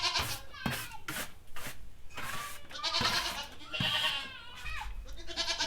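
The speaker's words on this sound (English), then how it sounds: "let's start working some goats" Goats bleating repeatedly in a farm pen, several loud overlapping calls in quick succession close to the microphone, with kids among the herd.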